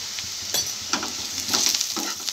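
Curry leaves fry in a pan with a pinch of turmeric, giving a close, soft sizzle broken by several brief scraping bursts as they are stirred.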